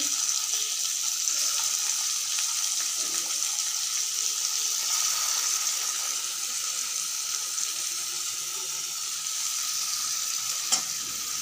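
Tomato hits hot oil in a pan while a Bengali fish curry (bhangon macher jhol) cooks, giving a steady, close, even sizzle that runs throughout with a brief tap near the end and no talk.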